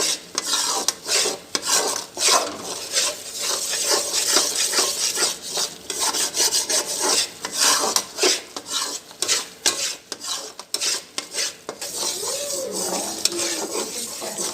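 Besan (gram flour) roasting in a pan on low heat, stirred continuously with rhythmic scraping and rubbing strokes of a spoon against the metal, close and busy, over a light sizzle.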